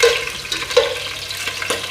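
Onions frying in a pan for chicken pulao, a soft steady sizzle with a few light stirring scrapes, close and alone.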